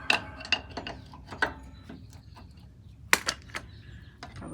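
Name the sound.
loosening a washer fastener on a Volkswagen split window bus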